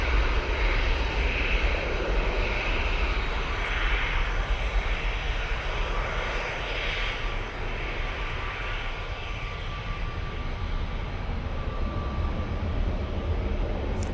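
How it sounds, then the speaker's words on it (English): Jet2 Airbus A321ceo rolling and taking off for Rome, a steady broad engine roar with rushing thrust held throughout, loud and continuous with no talk. "A321 CEO for Jet2 now rolling. And that's off to Rome."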